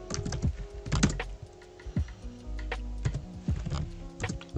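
Keys on a computer keyboard clatter in quick, uneven bursts during a JavaScript coding session. The tapping is close and crisp, with brief pauses between runs of keystrokes.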